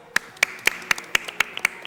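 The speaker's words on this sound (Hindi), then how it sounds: "तालियां।" Steady rhythmic clapping greets a team's points tally at a quiz-show semifinal, eight or so crisp claps at an even beat, near and clear, nobody talking over them.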